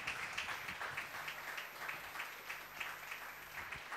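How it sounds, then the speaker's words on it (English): A church congregation stands and applauds to welcome two guest ministers, the clapping steady and dense throughout, moderately loud and filling the room without any talking over it. "Why don't you all stand up and clap our hands and welcome both of them"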